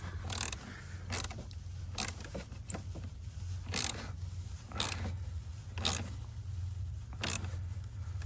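A 10mm ratchet tightens the battery terminal nut on a 2019 Toyota RAV4, giving several quiet, evenly spaced clicking bursts close by with no talking.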